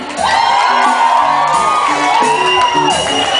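A lively audience cheers and whoops for a performer named Moreno: loud, sustained crowd shouting with high rising whoops and mixed voices throughout.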